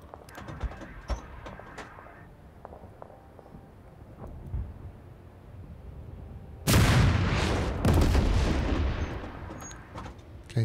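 Artillery fire in the war strategy game Total Tank General bursts in loudly partway through, a heavy explosive boom and crackling roll after quieter scattered shots and clicks.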